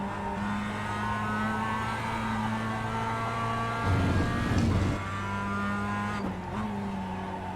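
A Mazda MX-5 Cup race car at Lime Rock Park in iRacing holds a steady, loud engine note, with a brief rough burst of throttle and tire noise partway through before the drone resumes.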